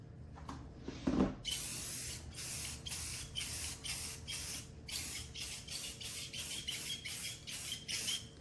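Aerosol spray can lightly misting a second coat of paint onto an R2-D2 dome, heard as a run of short, closely repeated hissing bursts after a brief knock, fairly close and with no talking.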